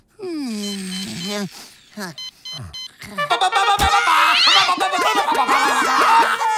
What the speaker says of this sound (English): We cut to the next day where Beast Boy sleeps as a cat